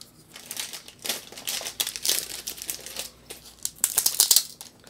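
Plastic wrapping being pulled and crinkled off Lords of Ragnarok board game player boards, close irregular crackles and rustles in uneven bursts, growing louder toward the end, with no talk.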